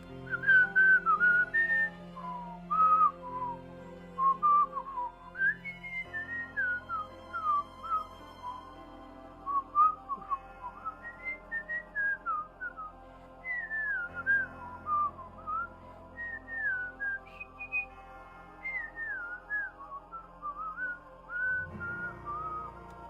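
A person whistles the bouncy, melodic Super Mario Bros. tune alone, clear and close, in short phrases with brief pauses between them.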